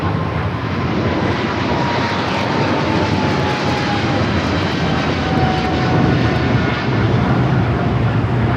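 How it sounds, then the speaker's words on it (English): A Boeing 777 freighter rolls down runway 25 left at Los Angeles airport for takeoff, its jet engines a loud, continuous broadband roar with a faint whining tone, sustained throughout. "Green Air Cargo, 777 freighter rolling down to 25 left"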